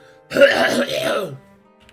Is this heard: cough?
yes